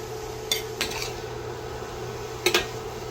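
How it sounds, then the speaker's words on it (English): Steak strips are dropped into a pan of softened fajita peppers and onions, with a few sharp clinks of utensil on pan over a low steady background hum. "I'm going to go ahead and add my steak in here"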